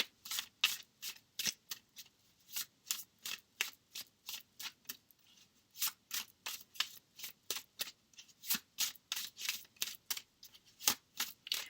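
Tarot cards being shuffled in quick, crisp riffling bursts, dozens of papery flicks in a steady run with brief pauses, close and clear with no talking.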